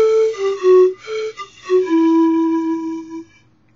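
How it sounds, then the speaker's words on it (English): Pan flute playing a short phrase of slurred notes that glide smoothly from one pitch to the next, breathy and close, finishing on a long held tone that fades out alone. "Okay, the one note just glides nicely into the other."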